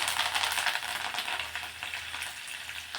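Chopped coriander sizzles and crackles in hot tempering oil, a close, continuous bright frying hiss for a few seconds with no talk.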